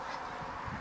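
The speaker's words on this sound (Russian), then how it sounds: "Гуси поют, все нормально" Geese honking in a short, continuous burst of overlapping calls, moderately close, with no talking.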